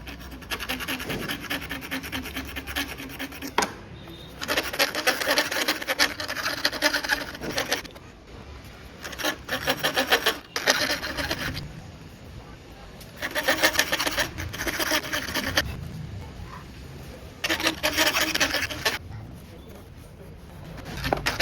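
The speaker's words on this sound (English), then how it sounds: "I'm going to use this metal file to slightly widen the hole" Metal file rasping to widen a hole in a metal motorcycle charger mount, heard as repeated close scraping strokes in bursts separated by short pauses.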